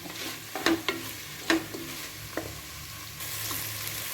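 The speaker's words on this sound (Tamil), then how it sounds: "கொத்தமல்லி தழை, புதினா சேர்த்து இந்த பச்சை வடப்போ கொஞ்சம் நேரம் வதக்கிட்டு" Coriander leaves, mint and a green paste being sautéed in a pan, with a few sharp stirring scrapes and clinks over a soft, steady background sizzle.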